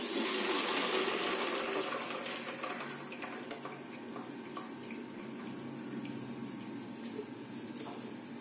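Boiled homemade wheat-flour noodles made from ration-shop flour are tipped out to drain, with hot water pouring and gushing steadily into a sink, loudest at first and then settling into a continuous splashing flow.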